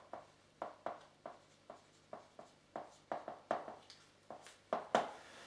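Chalk or marker writing by hand on a board gives a series of short, crisp taps and strokes, roughly a dozen spaced irregularly and growing slightly louder, with no talking.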